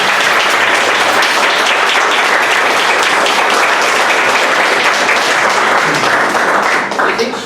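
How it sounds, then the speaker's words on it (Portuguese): Sustained applause from a class audience following a lecture on Hinduism, a dense, loud wash of clapping that holds steady and begins to thin out at the very end. "ele merece mais uma salva de palmas"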